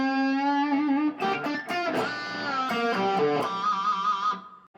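Distorted electric guitar plays a solo lick: a sustained bent note, then a quick flurry of picked notes, ending on a held tone that cuts off, loud and alone.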